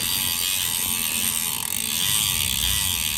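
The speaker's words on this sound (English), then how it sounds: "And then we have the 54 tooth ratchet." Rapid buzzing freewheel of a 54-tooth ratchet rear hub on a Specialized Aethos road bike with Roval CLX 50 Rapide wheels, a loud continuous clicking whir held close throughout without talk.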